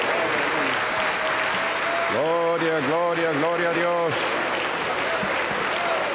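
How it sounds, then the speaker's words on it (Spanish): Steady applause from a Pentecostal church congregation at La Cosecha in Junín, Peru, filling the whole stretch, with a voice chanting praise over the middle of it. "le recibimos con fuerte aplauso para el Señor Jesús"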